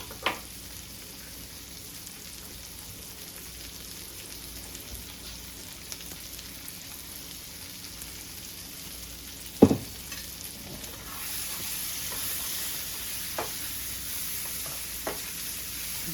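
Onions with baby red and orange peppers frying in butter in a pan, a steady soft sizzle with occasional stirring clicks and scrapes, the frying growing a little louder toward the end.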